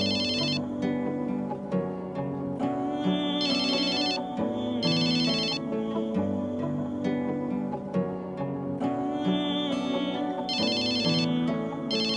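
A phone rings with an incoming call, a musical ringtone looping steadily with repeated bright chiming bursts over a sustained melodic backing, loud and close with no talking.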